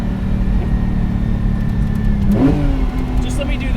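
A 1975 Lancia Stratos HF Group 4 works rally car engine running loud and close, with a steady low rumble and a brief rise in revs partway through.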